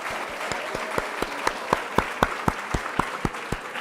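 An audience at a live in-person event claps and cheers, a crowd of hands beating together in a dense, steady patter with regular louder claps standing out, close and lively, no speech over it.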